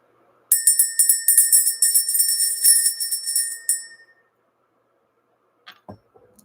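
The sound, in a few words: bell being rung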